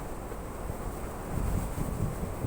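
Dry wind blows hard across a microphone outdoors, a dense low rumbling buffet that swells and gusts without pause.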